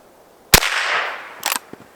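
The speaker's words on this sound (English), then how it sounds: "Let me shoot to the right." A single loud gunshot is fired at an iPad as a bullet-stopping test, a sharp close crack followed by a ringing decay and a short second burst of impact noise.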